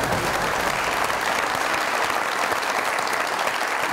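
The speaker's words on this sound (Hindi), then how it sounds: "बहुत सारी तालियां इनके लिए" A studio audience at a comedy talk show applauds, loud continuous clapping that fills the whole stretch without a break.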